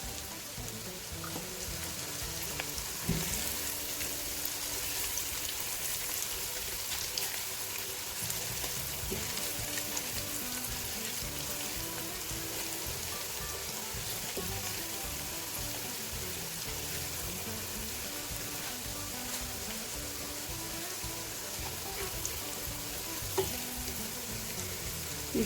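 Dry coriander and cumin sizzling with browning onions in a pan, a dense, continuous frying crackle with scattered pops and a brief stirring scrape, close and alone.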